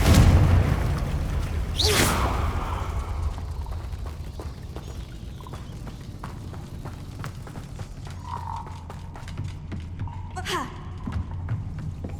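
A Confringo blast spell goes off in Hogwarts Legacy, heard as two sharp booming bursts several seconds apart. Faint mechanical clicks and a low ambient rumble fill the gaps between them.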